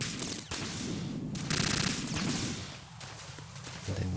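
Gunfire in the video game Metal Gear Solid 2 Substance, rapid bursts of shots layered over game ambience, steady and fairly loud across the whole moment.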